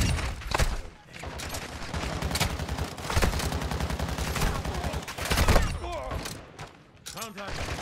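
Dense, loud bursts of automatic gunfire and shots fill a video game battle, with voices talking over the shooting.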